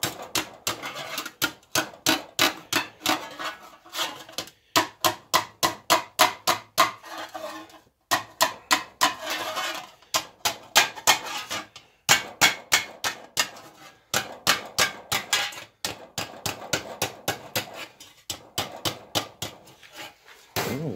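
Tin sheet metal edge being bent and hammered for a three-part duct elbow, a long run of sharp, loud metallic knocks in quick, uneven bursts with brief pauses between.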